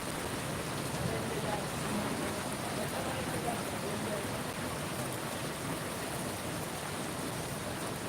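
Steady first rain of the season falling in a dense, even hiss, with no breaks and no clear single drops.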